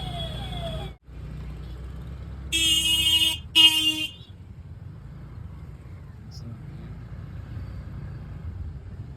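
Car horns honking in a road traffic jam near a railway crossing: two loud, close honks in quick succession over a low idling engine rumble, with an earlier fainter horn and a voice talking.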